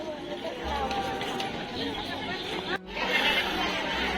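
Busy Sunday crowd at the Jejuri Khandoba temple near Pune, a dense babble of many voices talking at once with footsteps and general bustle throughout, fairly close and continuous.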